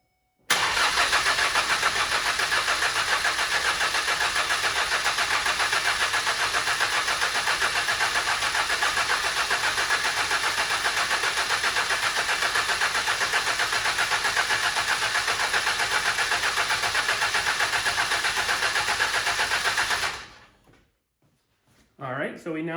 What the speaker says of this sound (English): We're gonna go hop in there, and we're gonna turn it over for probably about 30 seconds